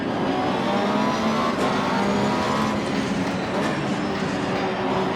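Race car engine in Assetto Corsa Competizione at Brands Hatch, a steady loud drone with dense harmonic whine and road rumble running continuously throughout, close and unbroken, with no talk over it.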